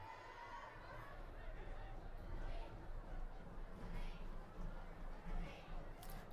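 Crowd murmur and chatter rises from the stands at a varsity high school football game, Linn-Mar vs Prairie, a steady low hubbub of many voices running throughout under occasional brief louder swells.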